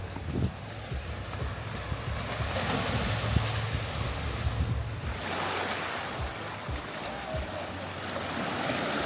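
Surf rolls onto a beach on Portugal's west coast with a broad, continuous rushing wash. Heavy wind buffets the microphone, and a bigger wave surges midway through.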